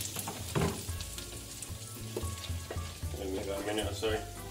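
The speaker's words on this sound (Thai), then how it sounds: "นำลงมาผัดแล้ว หอมค่ะหอม พวกพืชสมุนไพรพวกเนี้ยนะ" Herbs sizzle and fry as they're stirred in a pan, a soft steady crackle with occasional stirring knocks, faint and close, with someone speaking over it.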